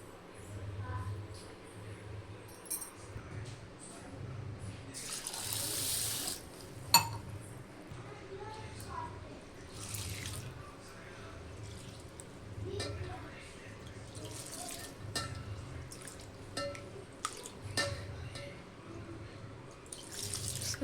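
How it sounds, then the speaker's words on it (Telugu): Fish being washed in water at a kitchen sink, with splashing, running water and occasional clinks of vessels, moderately quiet and continuous with a voice speaking at times. "సో 2-3 సార్లు బాగా కడిగేసుకోవాలి."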